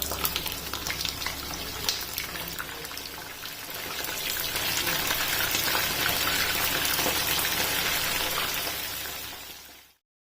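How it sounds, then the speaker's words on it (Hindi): Chicken fries in hot ghee with whole garam masala for karahi, a dense, steady sizzle that swells slightly midway, then cuts off abruptly at the end, with no talking. "अब चिकन को इस ऑयल में गोल्डन ब्राउन कलर तक फ्राई होने देना है"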